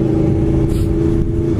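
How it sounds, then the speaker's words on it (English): Yamaha R6 sport motorcycle engine revving, a loud sustained high-pitched whine over a buzzing drone, close by and steady throughout without talk. "I'm hearing the bike."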